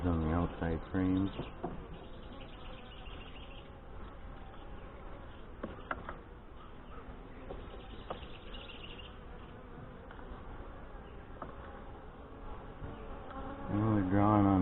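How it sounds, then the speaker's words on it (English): Saskatraz honey bees in a hive in Northwest Wisconsin make a steady, dense buzz around the frames, close and continuous, with a voice briefly audible at the start and end. "Very few bees on the outside frames."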